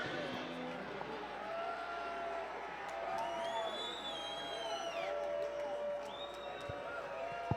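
A large indoor arena crowd at an arena football game roars and cheers continuously, with whistles and shouts rising above the dense noise.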